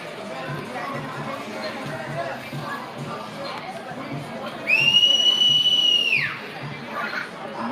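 A single loud, sustained whistle from the crowd at a baseball game rises over steady stadium chatter and murmur, holding for about a second and a half before sliding down and fading.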